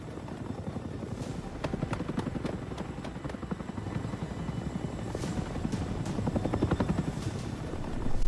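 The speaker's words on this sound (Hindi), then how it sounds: "अमेरिका ने चिनूक हेलीकॉप्टर से अपने कमांडो को उतारा" Steady, heavy rotor thumping of a large twin-rotor Chinook helicopter landing commandos, loud and close, with a continuous engine roar that swells slightly toward the end.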